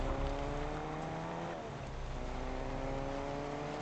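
A car engine in the Fortnite video game, zero build mode, runs steadily and close up, its revving tone sliding in pitch partway through and holding at a loud, even level.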